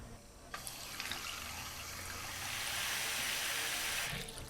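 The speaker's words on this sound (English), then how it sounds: "And now I'm going to cover this with water." Water runs steadily from a tap into a saucepan of carrots, a continuous splashing hiss that swells slightly as the pan fills and then cuts off.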